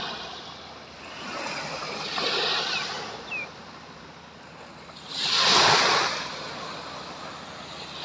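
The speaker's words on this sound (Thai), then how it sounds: "ฟังเสียงคลื่นทะเลแล้วเป็นยังไงครับ" Sea waves wash ashore at Manao Bay, Prachuap Khiri Khan, Thailand, before sunrise, in slow swells, two larger surges rising and fading over a constant low rumble, with a faint bird chirp between them.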